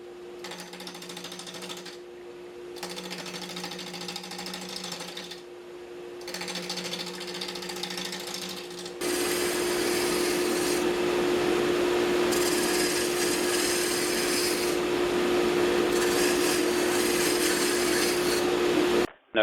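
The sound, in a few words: wood lathe turning a wooden log at low speed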